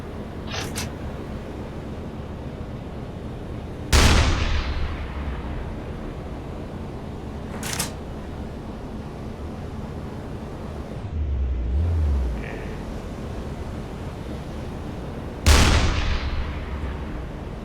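A U-boat's deck gun fires in the submarine game UBOAT, four sharp, heavy reports spaced several seconds apart, each trailing off into a low rumble over steady background hum.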